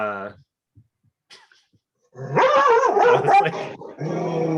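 A dog named in a podcast setting makes short yelps or whimpers at the start, followed by a quiet stretch and then someone talking warmly to it close by.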